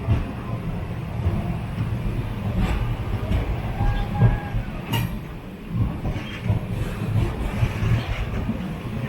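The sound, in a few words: Jan Shatabdi Express train arriving at Thanjavur station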